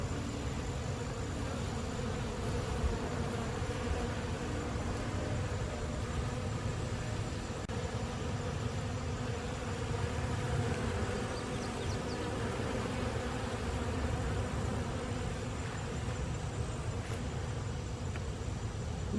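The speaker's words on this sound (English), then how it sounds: "There's the sumac flowers, loaded with bees." Bees swarm sumac flowers in a park on a humid summer morning, a continuous dense buzzing hum that stays steady and fairly close throughout, with no talking.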